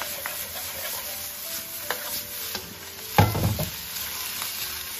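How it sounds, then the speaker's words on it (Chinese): Seasonings for a cucumber dish sizzle in a hot wok while being stir-fried, with soft scraping stirs and a louder burst of frying partway through, close and without any talk. "把黄瓜油的配料放进来，快速给它翻炒均匀"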